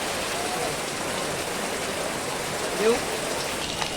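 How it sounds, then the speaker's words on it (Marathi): Steady, dense rain hisses evenly throughout, a continuous wash of falling water with no voices and only a faint bump near the end, at Tulshibaug in Pune. "तर फायनली तुम्ही बघू शकता खूप पाऊस येतोय"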